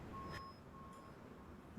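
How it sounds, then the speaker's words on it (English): An electronic alarm sounds in a quiet room, with steady high-pitched tones repeating in a sustained beeping pattern, fairly faint and with no voices over it. "for a minute I was like, "What's that noise?" But it's The alarm."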